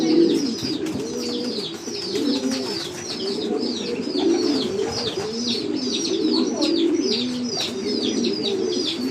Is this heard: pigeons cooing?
yes